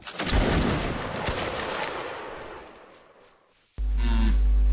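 A massed musket volley in a line-battle video game, a cluster of sharp cracks in the first second that rolls into a long fading rumble before an abrupt shift to a louder steady tone.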